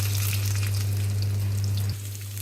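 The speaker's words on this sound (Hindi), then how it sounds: "अब डालती हूँ इसमें लहसुन।" Garlic fries in hot oil and ghee with cumin, a loud, close, continuous sizzle over a steady low hum that drops away near the end.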